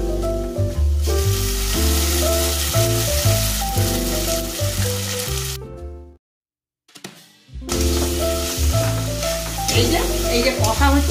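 Spice paste of ginger, garlic, green chilli and tomato sizzles loudly in a pan for egg bhuna khichuri, with repeated scraping stirs and a short pause midway before the frying resumes.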